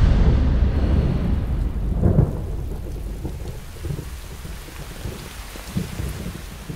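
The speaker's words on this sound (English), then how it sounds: "There's a storm coming." A thunderstorm with steady heavy rain and low rolling thunder, a louder rumble building around two seconds in, then continuing downpour with scattered drops and distant grumbles, no voices.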